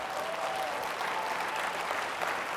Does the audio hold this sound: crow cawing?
no